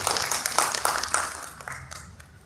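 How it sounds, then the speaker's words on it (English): An audience at an infrastructure conference applauds the chief guest, a burst of fairly close clapping that gradually thins and fades over a couple of seconds. "Please join me in giving our chief guest another round of applause."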